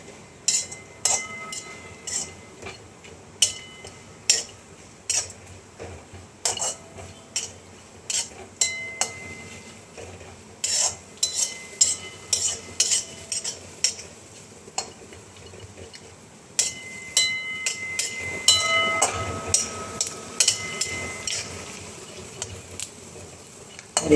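Dry fruits for kheer being fried and stirred in a pan, with a spatula clinking and scraping against the metal in quick irregular bursts and a soft sizzle swelling near the end.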